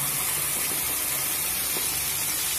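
Spice paste added to cauliflower and egg frying in a pan, a dense continuous sizzle and hiss, steady and close with no talk.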